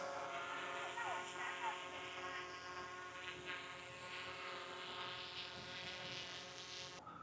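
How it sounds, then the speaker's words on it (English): Many drones flying overhead above a mountainous cliff site near Beijing, a continuous buzzing propeller whine with layered high tones drifting in pitch, moderately distant under outdoor ambience and faint voices. "People are flying their drones. You can see there are so many drones in the sky."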